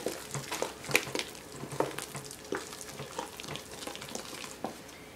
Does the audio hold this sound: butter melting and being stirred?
yes